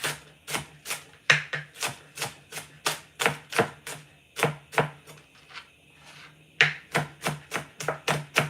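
A kitchen knife chops vegetables on a cutting board to prepare shito pepper sauce, making brisk, evenly spaced close thuds in quick runs with a brief pause midway before the chopping resumes.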